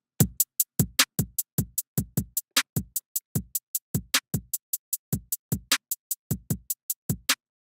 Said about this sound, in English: A simple two-step hi-hat